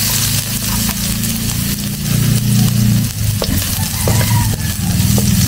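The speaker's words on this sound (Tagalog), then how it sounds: "Tapos dito na rin natin luluto yung sinangag." Garlic fried rice (sinangag) frying in a hot pan, a loud continuous sizzle and hiss with stirring scrapes and a low rumbling hum underneath, close by, no talking.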